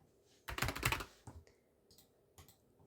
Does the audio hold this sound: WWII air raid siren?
no